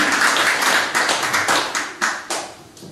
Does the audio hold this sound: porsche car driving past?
no